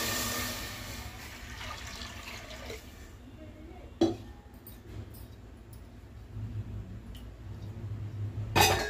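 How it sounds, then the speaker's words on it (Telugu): Water is poured steadily into lentils that were washed twice and soaked ten minutes, ready to boil for an amaranth-leaf dal. The pour is faint, with a couple of sharp clinks of a vessel. "ఇప్పుడు తగినంత వాటర్ పోసుకొని ఉడికించుకోవాలి"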